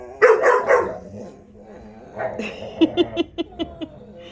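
A puppy barks in a quick burst of several sharp yips close to the mic, then a run of short, evenly spaced higher yaps, with no talk over it.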